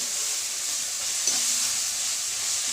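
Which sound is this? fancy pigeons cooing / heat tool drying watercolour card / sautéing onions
sautéing onions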